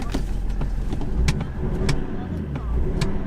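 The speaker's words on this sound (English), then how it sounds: "It's revving up, all right?" A cheap £100 project car's engine runs nearby with a rough rumble and short revving surges, mixed with clicks and rattles from inside the car while a person talks over it.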